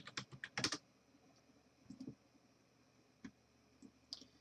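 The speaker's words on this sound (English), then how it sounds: "So we're going to type in not a collectible" Computer keyboard typing in a quiet room, a quick burst of clicky keystrokes followed by a few sparse, isolated taps, close and clear with no talking.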